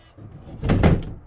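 A door fitted with a HOOWISER fingerprint lock swings shut: a soft swish and then a dull, fairly loud thud close by, followed by a second knock as it settles.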